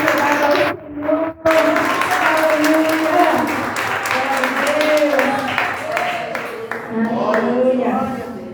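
A church congregation applauds throughout a lively service, steady clapping and crowd noise mixed with a leader speaking and singing voices over the top, with a brief dip in the applause near the start.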